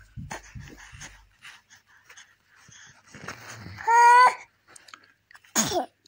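An infant sneezes once, loud and close, a sharp burst about two-thirds through, amid soft baby babbling and breathy vocal sounds.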